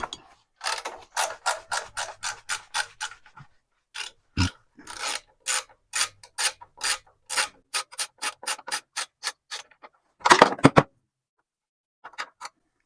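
A ratchet clicks in quick bursts of evenly spaced sharp pawl ticks while 10 mm bolts come off a generator, with short pauses between runs and a louder clunk near the end, close with no talk.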